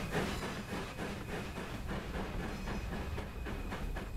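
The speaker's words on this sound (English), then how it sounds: "the chuffing sounds are absolutely amazing on this on this 4F Fowler" A Fowler Class 4F steam locomotive hauling a freight train at full power on the Peak Forest Railway in Train Sim World 3. It gives a dense, continuous chuffing roar with hiss and faint rhythmic beats, and no talk.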